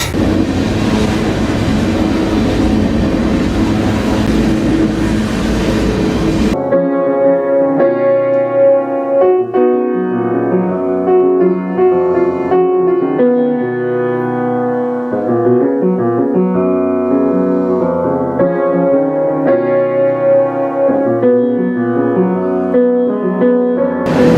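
A train rumbles heavily along the rails, then gives way to sustained metallic squealing and droning tones as the cars keep rolling.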